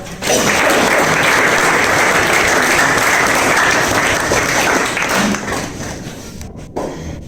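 Hearty audience applause at a village school's tenth-class farewell, loud dense clapping starting abruptly and sustained for several seconds before fading with a few stray claps.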